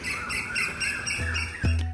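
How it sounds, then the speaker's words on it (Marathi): Birds chirp and call along an elevated nature trail on Malabar Hill, Mumbai, a steady mesh of high tweets and trills, with a few low thumps near the end. "पक्ष्यांचा आवाज तुम्हाला ऐकवतो"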